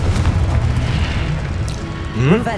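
A Confringo explosion spell in the Hogwarts Legacy video game lands as a loud, booming burst with a rumbling tail, and a voice is heard at the end.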